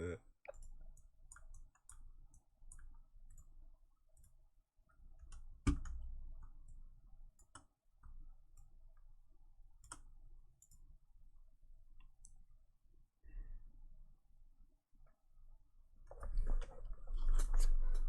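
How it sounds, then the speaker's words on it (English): A Corsair computer mouse is clicked in sharp, irregular taps, sometimes slammed hard, scattered across a quiet room. Soft background noise fills the gaps, and the sound grows louder toward the end. "Can I get a mouse that I can slam a bit harder than this one, please?"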